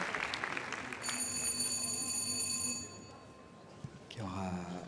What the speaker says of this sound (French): Oui, des applaudissements s'il vous plaît.